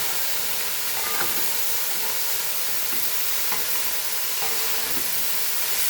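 Cabbage being stirred in a hot pan over a high flame for a Goan vegetable dish, a constant loud sizzle with a few scraping strokes of the spoon scattered through it.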